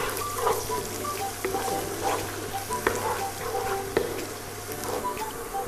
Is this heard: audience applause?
no